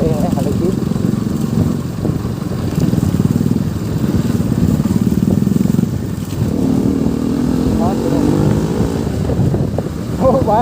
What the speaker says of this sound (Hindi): गाँव का रास्ता पीछे भी दो बाइक है आगे भी दो बाइक